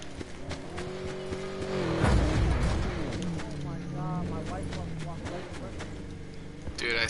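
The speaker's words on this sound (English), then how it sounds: "I swerved to the right when I heard the car." A car drives in a video game, its engine droning and shifting pitch as it revs past, with a loud rumbling surge midway; people talk over the engine noise.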